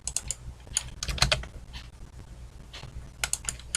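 Someone types on a computer keyboard in bursts of quick clicky keystrokes with pauses in between, close and clear, and no one talks.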